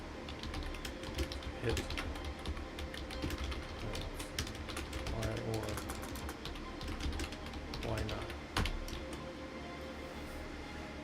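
Typing on a computer keyboard during an online lab session on system administration, a quiet run of irregular clicks throughout, with some speech and background noise mixed in.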